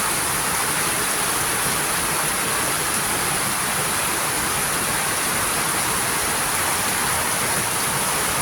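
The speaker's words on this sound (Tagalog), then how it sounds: "lakas ng ulan naman." Heavy rain pours down in a dense, unbroken hiss, loud and steady from start to finish, with no voices.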